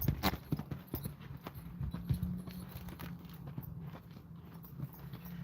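Hooves clip-clop at a slow, uneven walking pace on a hard surface, fairly faint, with a low hum in the background.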